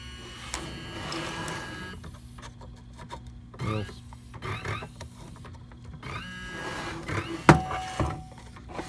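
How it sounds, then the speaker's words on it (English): A CNC machine's stepper motor runs after power is switched back on, giving a steady mechanical whir and buzz with uneven bursts and a sharp knock near the end, close and moderately loud. "The motor has more than enough power to spin itself and my hand as well as everything else."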